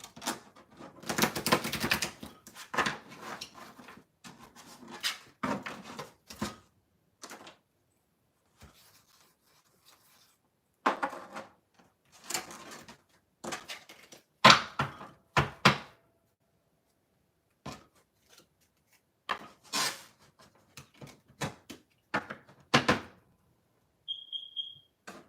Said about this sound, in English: Let me shuffle this deck once because I used it in Pile 1.